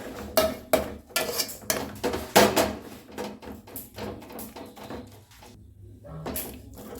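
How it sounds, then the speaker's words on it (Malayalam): Cooked tapioca with garlic, shallots, onion and green chillies being mashed in a pot, a close run of irregular knocks and scrapes of a utensil against metal, with a short pause near the end. "ഇനി ഇത് നന്നായിട്ട് നമുക്ക് ഉടയ്ക്കാം"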